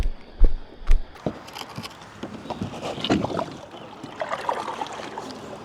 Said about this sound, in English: Literally just started paddling.